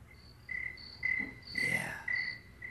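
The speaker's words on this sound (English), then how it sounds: "there used to be a lot of crickets chirping out in the fields" Crickets chirping in regular, repeating pulses, fairly close, with a faint rustle in the background.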